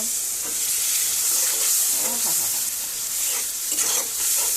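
Vegetable and dried fish (shutki) curry sizzling hard in a pan just after water is added, a loud continuous hiss and spatter with faint stirring underneath.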